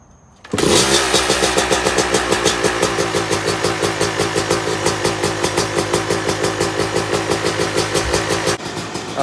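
A rebuilt Yamaha YZ250 two-stroke dirt bike engine catches after a short crank and settles into a loud, steady, close-up idle with a rapid burbling pulse, running alone with no talk until it cuts off near the end.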